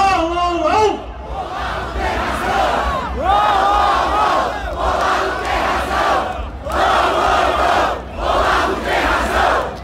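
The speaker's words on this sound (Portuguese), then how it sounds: "uma coisa que aconteceu aqui na Paulista, que foi milhões de pessoas gritando: o Olavo tem razão" A huge crowd at a rally on Avenida Paulista shouts a slogan in unison, repeated rhythmic waves of massed voices rising and falling, loud and close, with brief lulls between chants.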